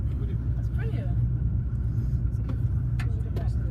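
A truck pulls away at a container port, its low steady engine rumble dominating throughout, with faint clanks and scattered background noise over the top.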